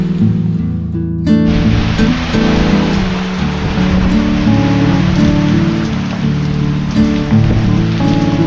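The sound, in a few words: heavy rain in Konkan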